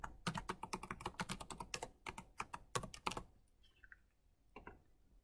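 A computer keyboard is typed on in a fast burst of crisp keystrokes for about three seconds while a password is entered. A couple of softer clicks follow after a pause.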